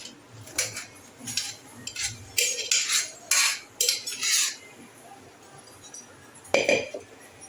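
Metal cutlery and pots clink and scrape in a home kitchen as cooked rice is moved into another vessel for making kheer, with a series of sharp, irregular bursts and a final louder clank after a quiet pause.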